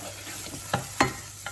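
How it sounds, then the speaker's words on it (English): Tomato puree sizzles softly in a pan over low heat, a quiet, steady fry broken by three or four sharp scraping clicks from stirring. "Oh, and I hear it sizzle, and it's only on a very low heat."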